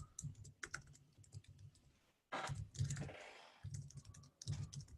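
Bursts of keyboard typing, clicky keystrokes in quick irregular runs with short pauses, close by, with no talking.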